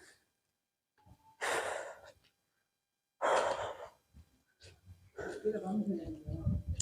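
Heavy panting and gasping breaths from someone after climbing the stone steps of the Dindigul hill fort: several loud, breathy exhales separated by pauses, close to the microphone, with some muffled vocal sounds near the end.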